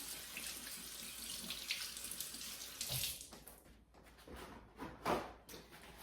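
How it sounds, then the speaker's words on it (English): Running tap water splashes over hands at a kitchen sink, steady and close before cooking stew peas and dumplings, then the flow stops partway and scattered rubbing splashes and drips follow. "Washing under the nails and everywhere."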